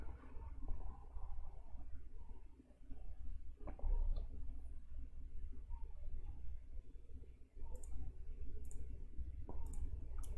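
A computer mouse clicks a few times, sharp and isolated, during a DellEMC PowerMax Unisphere software demo, over a low background hum.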